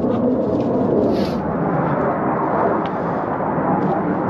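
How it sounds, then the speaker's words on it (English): Jet aircraft passing overhead outside a 2024 Grand Design Imagine XLS 24BSE travel trailer, a steady broad distant roar with no other sounds over it. "you can hear the jets flying over me right now"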